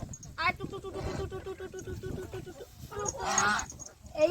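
Agitated chicken squawks and clucks as a hen is caught, mixed with a person talking, with a louder burst of squawking near the end.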